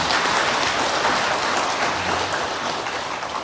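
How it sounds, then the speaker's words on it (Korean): Applause from a church congregation at a baptism, a short, even patter of many clapping hands at moderate volume with no voices over it. "우리 박수 한번 쳐드릴까요?"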